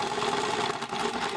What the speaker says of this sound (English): do like 2 or 3 stitches and then just back up and then continue sewing